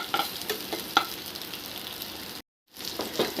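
Papaya and lentil fritters sizzling quietly in oil, with a few sharp clinks and scrapes as they are turned to the other side and a brief silent gap partway through.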